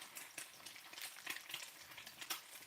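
An egg fries in hot grease on high heat, giving a faint, quick crackling and spattering with small irregular pops, with no one talking.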